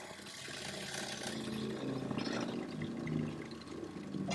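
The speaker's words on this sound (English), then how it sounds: "I'll have Mandy turn the pump on and we'll pump vodka through our water lines" A steady rush of vodka pumped by a water pump through a travel trailer's water lines, flowing and gurgling, continuous and moderately quiet, with a faint mechanical hum beneath.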